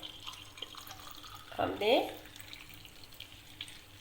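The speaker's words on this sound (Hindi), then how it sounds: "पानी ऐड किया और साथ ही हम इसमें लेमन जूस ऐड करेंगे।" Water is poured briefly into a strawberry mocktail, a short splashing gush in the middle of a quiet clip, with a person talking softly around it.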